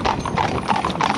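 Hooves of a five-in-hand driving team clip-clop in a quick, overlapping rhythm, close and loud, several horses trotting together over a short stretch.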